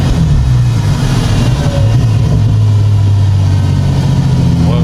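A Nissan 350Z engine revs after a downshift, a loud, close, sustained drone whose pitch climbs and then holds steady, heard from inside the car.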